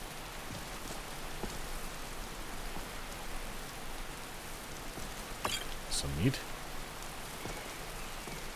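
Steady rain falls in an Elder Scrolls game, a constant hiss of drops on surfaces that continues throughout as people talk briefly over it.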